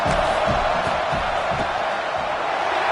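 Steady stadium crowd roar fills a video-game football broadcast during a field goal attempt, a dense continuous wash of voices with faint bursts of shouting throughout.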